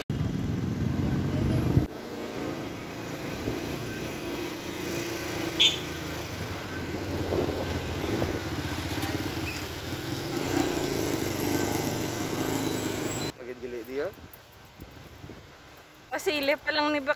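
A Skygo Boss 150 motorcycle engine drones steadily while riding on a road trip in Iloilo Province, with wind noise and a voice talking over it, then the sound cuts to quieter handling noises.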